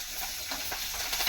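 Curry leaves crackle and sizzle in hot oil for a tempering, a brief, fairly quiet hiss with small pops and no talking.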